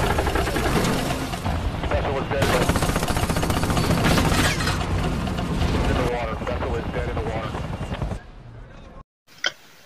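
Police open fire on suspects in a drug-bust scene from an action film, with bursts of gunfire mixed into loud, dense soundtrack and engine-like roar that cuts off abruptly near the end.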